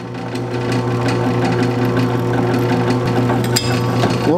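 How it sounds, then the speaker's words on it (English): A steady mechanical whine of a power drill boring bolt holes in metal on a 1949 Chevrolet, loud and close, with a constant motor drone and faint clinks. "we're gonna have to drill some holes for those bolts to go through"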